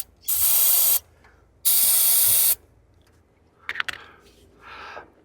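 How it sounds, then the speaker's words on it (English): Two long hissing bursts of an aerosol spray can on the thermostat housing of a 2003 Chevy Blazer, each about a second, followed by a few faint clicks and a softer hiss. "I should spray this down too for the thermostat housing"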